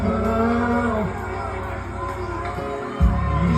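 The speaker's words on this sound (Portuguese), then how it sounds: "Posso ouvir o clamor da multidão" Loud crowd clamor from an amateur Easter passion play, a dense roar of many voices shouting together with rising and falling swells.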